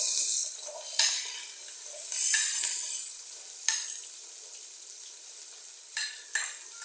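Two medium onions fry in a pan while a spoon stirs them, giving a bright, hissing sizzle with intermittent scraping and clinking strokes against the metal; no voices.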